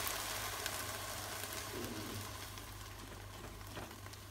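Green beans and eggs cooking in a pan with a steady soft sizzle and bubbling, plus occasional faint stirring taps, alone and even in level.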